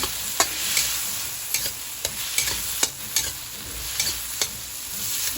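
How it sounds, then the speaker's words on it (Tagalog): Shrimp paste (bagoong alamang) sautéing in a pan, with a steady sizzle under sharp spatula scrapes and taps that come every half second to second. "Ginisa na akong bagoong nalagay ko na lang isang kutsara."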